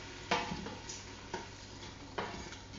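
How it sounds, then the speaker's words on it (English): Cumin seed and a seasoning blend stirred and sautéing in a pot for chicken soup, with a soft steady sizzle and three brief utensil scrapes against the pot. "stir it around a little bit here. And then I'm going to add in the seasoning blend. I'll let that saute for about 1 minute."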